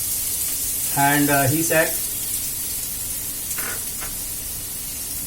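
Onions browning in a pan give a steady, hissing sizzle throughout, with a voice briefly speaking near the start.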